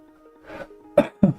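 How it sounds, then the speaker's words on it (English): A short throaty sound followed by two sharp coughs in quick succession, close to the microphone. "I'm going to have a coughing fit."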